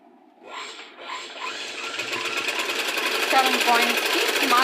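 A sewing machine stitches the side joints of a small child's garment, its whirring hum building steadily and growing louder, with a brief voice near the start.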